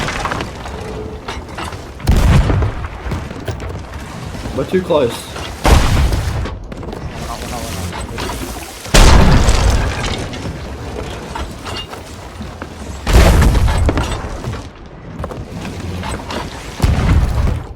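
Cannons fire in a ship battle video game, several loud booming blasts spaced a few seconds apart over ship and water ambience, with players talking throughout.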